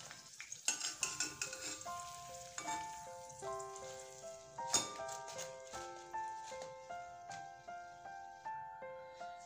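Pakoras deep-frying in oil over medium heat give a steady crackling sizzle, with repeated utensil clinks and scrapes against the pan at close range and no talking.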